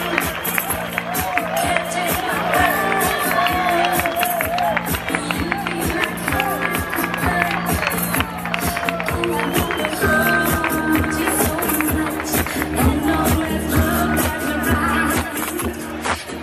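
A crowd in Alcantarilla applauds María Dolores Gómez Hoyos as she appears with the mayor, continuous clapping and some cheering over loud music and a chatter of voices for the full stretch.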